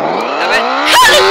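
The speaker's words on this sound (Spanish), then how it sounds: "Motocicleta." Motorcycle engine in the crash video game Turbo Dismount, a loud, close whine that climbs steadily in pitch as it revs, with a rougher burst near the end.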